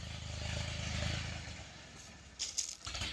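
A tractor engine chugs nearby in a mango orchard where rotary tilling is being done, a low rumbling drone that fades, followed by a few sharp metallic clatters near the end.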